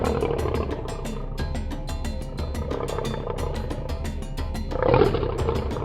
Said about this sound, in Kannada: ಸಿಂಹ ಗರ್ಜಿಸೋದು ಕೇಳಿಸ್ಕೊಂಡ್ಯಾ?